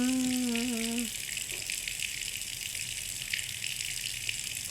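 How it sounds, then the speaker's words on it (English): Water rises in a room, heard as a steady, loud rushing gush that fills the whole clip, with a brief low tone fading out near the start. "The water is suddenly much higher."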